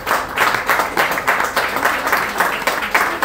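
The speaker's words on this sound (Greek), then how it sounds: "Χειροκρότημα." Audience applause at a darts league awards ceremony: close, lively clapping from a modest crowd, with individual claps in a loose rhythmic pulse that stays loud and steady for a few seconds.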